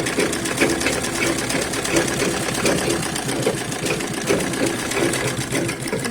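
A sewing machine stitches a cross-cut blouse, its rapid rhythmic needle chatter running continuously up close, with a voice talking faintly over it.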